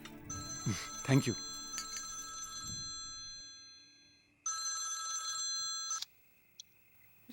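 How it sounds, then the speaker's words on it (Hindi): A telephone ringtone sounds in bursts: bright electronic tones under people talking at first, then a louder ring alone after a pause, cut off abruptly. "रघु मेरा फोन क्यों काट रहा है?"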